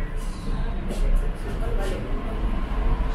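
Gurgaon Rapid Metro train running, a steady low rumble and rolling hum throughout with brief higher hiss bursts, heard from inside the carriage at moderate loudness.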